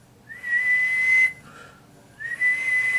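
A close, clear tone whistled into a microphone for a ham radio 10-meter amplifier audio test holds steady for about a second, pauses, then returns as a second sustained whistle.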